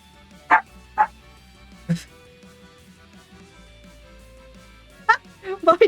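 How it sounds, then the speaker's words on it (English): A dog gives several sharp barks and yips, a few spaced near the start and a quick cluster at the end, loud and close over a quiet indoor background. "He just barked."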